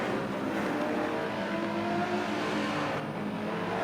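Race cars brake hard into the Corkscrew at Laguna Seca, a Viper and a Mercedes running close, with a continuous loud engine roar and downshifting drone throughout.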